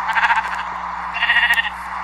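Two sheep bleats sound in a video game survival world, a wavering cry early on and a second higher one about a second later, with a faint steady hum behind them.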